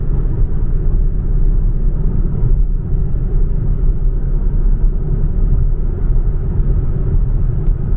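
Steady, loud low road rumble and engine drone from an Alfa Romeo Tonale 1.5 Hybrid driving on the road, a continuous even hum with no breaks and no voices.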